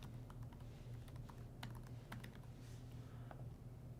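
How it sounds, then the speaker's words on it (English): Steady, quiet typing on a computer keyboard, a run of light rapid key clicks over a constant low hum of computer or room noise. "type in the IP address of your target machine"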